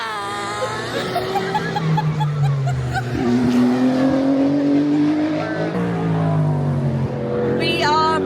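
A person imitates a GT race car at Le Mans, rising and falling revving tones with shifting pitch like gear changes, loud and close, ending in a squealing flourish.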